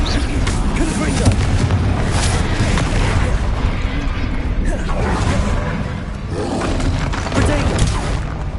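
Repeated Confringo fire-blast spells in Hogwarts Legacy combat, a dense wash of booming, crackling explosions and mechanical clatter that stays loud throughout, with a voice shouting over the noise.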